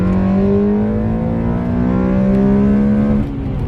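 A reflashed Honda Accord Euro R pulls hard under acceleration, its engine note climbing steadily and loudly from inside the car before easing off as the revs drop near the end.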